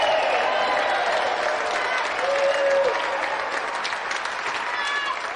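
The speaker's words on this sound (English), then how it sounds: "So let's have another round of applause for our two brilliant competitors, Mavis and Matthew John Minor." A TV game show studio audience in 1992 applauds two competitors, a loud, sustained wash of clapping that holds steady to the end, with a voice faintly audible beneath it.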